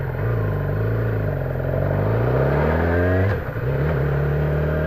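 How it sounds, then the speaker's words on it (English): A motorcycle pulls away in first gear, its engine note climbing steadily and loud nearby, then briefly dips at the shift into second before droning on at a lower, steady pitch. "I'm going to take off into first and put myself into second."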